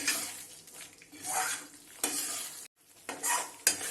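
Moong dal halwa with raisins and fried dry fruits roasting in ghee in a pan, stirred with repeated rhythmic scraping strokes over a soft sizzle, with one brief pause.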